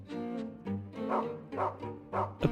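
A dog in the FMV video game Ripper barks repeatedly at feathers, a rhythmic run of close, moderately loud woofs and yips.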